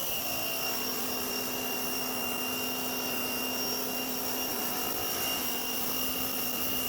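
Harbor Freight electric pressure washer running while washing a 2020 Mustang GT, a constant, even whine with a steady motor hum, moderately loud and unbroken throughout.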